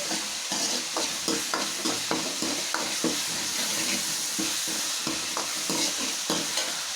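Green chillies sautéing in a pan for a Tamil mutton curry (attu botti kuzhambu), with a steady oil sizzle and repeated scraping strokes of a spatula stirring. The sound is close and continuous, with no one speaking.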